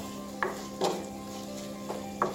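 Cooked tomatoes pressed and stirred with a spatula in a pan of rajma masala, giving a few soft scraping knocks against the metal over a low steady sizzle, close and fairly quiet.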